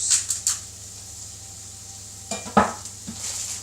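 Burgers seasoned with garlic salt cook in a pan, a faint low sizzle under a few light clinks and taps of utensils against the pan.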